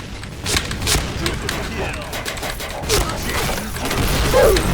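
Rapid bursts of shotgun fire in a Counter-Strike-style zombie deathmatch shooter, a dense, loud run of repeated blasts with game effects, while someone talks excitedly over the action.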